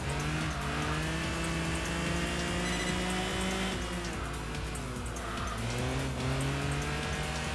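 A race car in the Enthusia video game holds a loud, steady engine drone whose pitch rises and falls with gear changes, under a constant hiss of tire and road noise.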